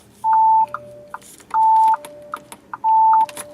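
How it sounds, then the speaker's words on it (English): A 2021 Audi A3 Sportback 35 TFSI S Line sounds its side lights warning chime, three clear, loud electronic beeps at an even pace, each a steady tone with quieter clicks between, and no voices. "I'm going to put the side lights on. It makes that noise."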